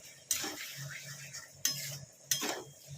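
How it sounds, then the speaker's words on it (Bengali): A metal spatula scrapes a pan three times, sharp and close, while rajma masala with onion, garlic and turmeric is stir-fried, with a low, soft sizzle running between the strokes. "এটাকে এবার ভালো করে কষাবো"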